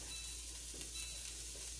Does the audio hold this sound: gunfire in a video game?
no